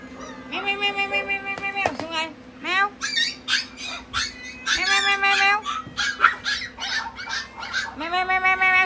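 A cat meows repeatedly at a rescue station, loud and close, in a steady series of calls while a person talks softly nearby.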